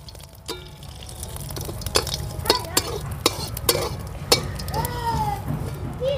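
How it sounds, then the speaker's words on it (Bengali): Whole cumin seeds fry in hot oil in a pan during rural village-style cooking, with a soft steady sizzle beneath sharp metallic clicks and scrapes from stirring. "গোটা জিরে তেলের মধ্যে দিয়ে দিচ্ছি। আর এই জিরেগুলো আমি তেলে ভেজে একটুখানি আমি তুলে রাখছি।"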